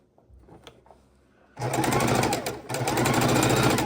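After a quiet start with faint handling, a sewing machine kicks in loudly, stitching quilt seams of fabric scraps in a fast steady drone with a short pause before running on.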